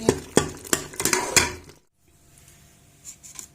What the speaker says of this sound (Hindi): अब 2 से 3 मिनट हम इसको अच्छे से भून लेंगे